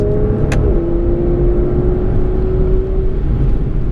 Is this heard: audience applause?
no